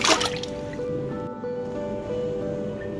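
Washed, cut raw meat for shami kabab drops into a pot of water with a single short wet splash at the start, then a quiet watery trickle and kitchen background.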